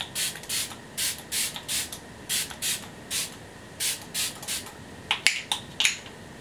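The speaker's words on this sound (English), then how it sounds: "I'm going to finish off with a spray of this Smashbox Photo Finish Priming Water Set and Refresh Spray." Smashbox Photo Finish Priming Water setting spray misted repeatedly onto a made-up face, about a dozen quick close hisses in a steady rhythm, followed by a few sharper, scrappier spritzes near the end, with no talking.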